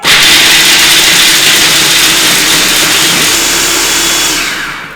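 Blender chopping hazelnuts on medium-high speed, a loud steady whirring roar that holds for several seconds and then winds down at the end.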